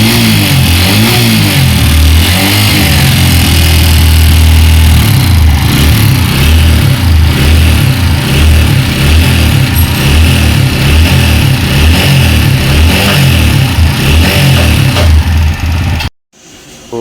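An Apache RTR 160 4V motorcycle engine idles and runs steadily with a faulty mechanical noise, a loud continuous throb close by that cuts out abruptly near the end.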